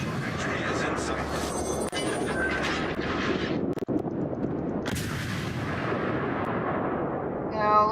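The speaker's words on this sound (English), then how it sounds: "This thing is able to pump out shells every 4 seconds, so it's a really good rate of fire" Naval guns of the SMS Emden firing shells in a warship video game, heavy booming blasts and rumbling over a dense battle din, with a voice talking throughout.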